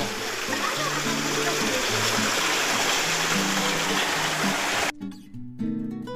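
Irrigation water rushes and splashes steadily close by in a lemon orchard, a continuous flowing stream that drops away abruptly near the end.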